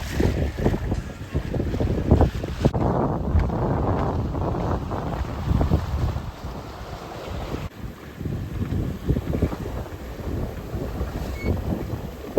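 A sailboat runs before strong wind, with heavy gusty wind noise buffeting the microphone and water rushing along the hull, loud and continuous throughout with no talking.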